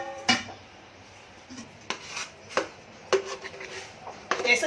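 A thick Konkani sweet mixture is spooned into a ghee-greased tin, giving a scattered run of close metallic clinks, scrapes and taps of a spoon against the metal container.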